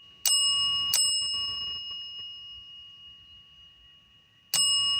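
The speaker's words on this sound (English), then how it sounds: "Can you ring that bell 3 times?" A bell rung three times, with two bright metallic dings close together, a long ringing decay, then a third ding a few seconds later, in a quiet room.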